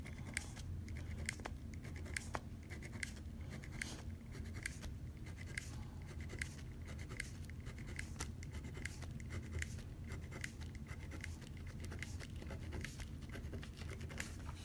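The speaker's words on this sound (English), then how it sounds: "we're gonna put a mark like here, and then you want to draw the dot line" Pencil drawing a dotted line on a graph for a periodic trend lab, a steady run of short scratchy taps and strokes close up, continuous throughout with no talking.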